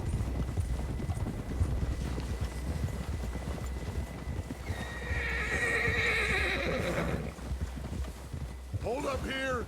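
A horse in the video game Red Dead Redemption 2 keeps up a rapid clip-clop of hooves, then gives a loud, close neigh and whinny, while someone speaks over the hoofbeats.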